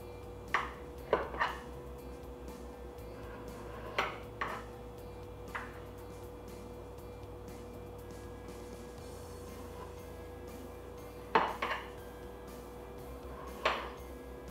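A utensil clinks and taps against a dish while a vegan chocolate pie is sliced, sparse sharp knocks spread over a quiet hum, no voices.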